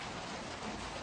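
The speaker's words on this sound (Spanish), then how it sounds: "ya está lloviendo" Steady rain falls in an even, dense hiss of drops hitting a surface, with no voices or thunder.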